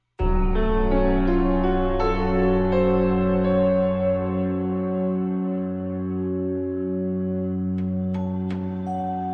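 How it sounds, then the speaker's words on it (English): Slow, eerie music with sustained low tones and lingering, echoing notes builds a creepy mood, a few sharp high accents appearing near the end. "Did you find that music kind of creepy or scary?"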